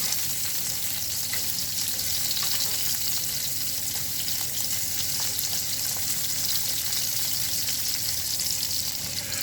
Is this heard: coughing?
no